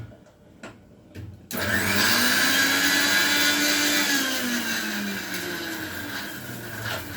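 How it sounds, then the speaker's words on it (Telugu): A mixer grinder blends gongura chutney with chilli seeds, running loud and steady after a few faint knocks, its motor whine wavering as the load shifts for several seconds. "ఇది మాత్రం మిక్సీ వేస్తాను"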